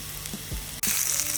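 Bell pepper dropped into hot olive oil in a pan, with a brief soft clatter, then a sudden loud, steady sizzle that starts midway and stays bright to the end.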